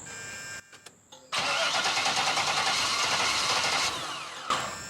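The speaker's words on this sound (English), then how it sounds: "Now turn it on and give it gas" Corvette Stingray V8 cranks briefly, catches and roars into a loud, steady running rev as gas is applied, then eases slightly before a final bump in throttle; nearby, indoors-garage feel with no talk.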